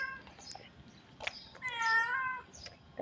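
A pregnant pet cat meows close by, with one drawn-out clear meow in the middle and a few shorter chirps and thumps around it in an otherwise quiet room.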